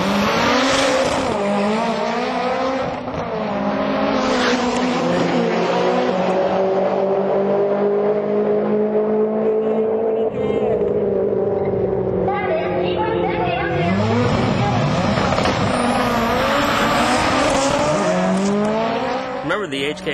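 Four-wheel-drive Mitsubishi Lancer Evolution drag cars, both running HKS 3240 turbos, roar hard under acceleration at a drag meet in Sendai, a loud sustained engine wail rising in pitch, dipping, then climbing again, with a voice over it.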